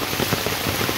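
Torrential Konkan monsoon rain drums down over a flooded road, a thick continuous wash of falling water with slight surges, heard alone without talk.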